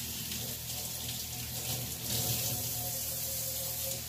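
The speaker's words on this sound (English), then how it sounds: "So I'm just going to quick wash my hands off." Hands washed under a running kitchen tap while a tater tot casserole is being prepared, a steady close splash of water pouring into the sink for the whole stretch, with no talk.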